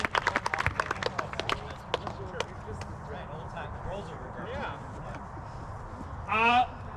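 A crowd at a high school boys soccer senior night applauds outdoors, a burst of quick claps fading into scattered clapping and cheering over steady background murmur, ending with a short loud whoosh.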